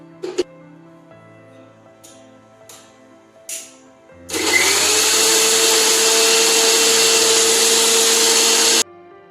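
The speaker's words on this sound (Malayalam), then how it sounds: "നമുക്ക് ഇതൊക്കെ പാടെ ഒന്ന് ക്രഷ് ചെയ്തെടുക്കാം." After a few small clicks and taps, a kitchen mixer grinder crushing Boost and milk powder starts up with a loud, steady whirring roar that runs about four seconds, then cuts off abruptly.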